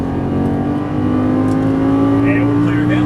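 Lamborghini Gallardo LP550-2 on a racing track, engine accelerating under hard throttle: a loud, steady rising drone with clear climbing pitch, close and sustained, while a voice talks over it.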